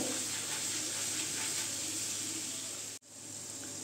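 Chana dal sizzles steadily in hot oil for a Bengali fried snack, a dense continuous crackle close by that cuts out abruptly near the end and then resumes.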